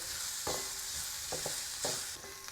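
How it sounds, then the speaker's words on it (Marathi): Bell pepper and onion sautéing in a pan with a steady sizzle, broken by several sharp stirring scrapes from a spatula at irregular intervals. "अर्धा मिनिट आपण ढोबळी मिरची देखील परतून घेणार आहोत"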